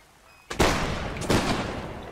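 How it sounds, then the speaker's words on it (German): Musket volley fire in a Napoleonic Wars line-battle video game: two loud crackling bursts, the first ragged and sustained, a second swelling shortly after, with rolling gunfire continuing beneath. "Sobald ihr steht, ein Schuss Feuer frei."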